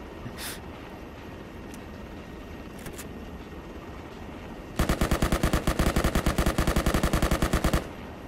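Sustained machine gun fire in a video game from about 4.8 to 7.8 seconds: a loud, rapid, even burst of repeated shots, with quieter ambient game noise before and after it.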